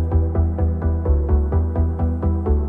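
A warm, plucky bass synth from a Serum preset plays a quick, even run of short notes, each one attacking with a soft pluck and fading, loud and dry with no voices.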